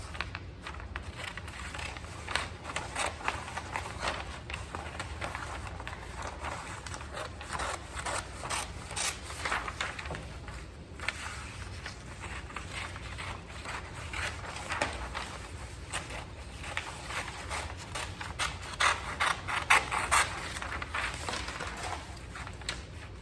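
Scissors cutting out a paper sewing pattern for a garment, a continuous run of close, crisp snips and rustling scrapes with short pauses, no speech.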